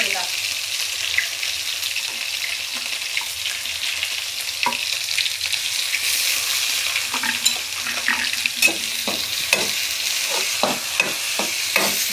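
Ground masala fries in a pan with a constant close hiss, while a spoon scrapes and taps against the pan in quickening strokes toward the end.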